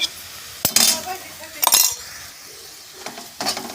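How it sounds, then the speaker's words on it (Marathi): Onion and ginger-garlic paste for pav bhaji are sautéed in a pan, with bursts of sizzling and the clink of a spoon against the pan coming in several spaced strokes. "मस्तपैकी परतून घेतले"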